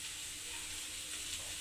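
Okra fry sizzles in a pan, a soft, even hiss that holds steady through a short stretch without speech.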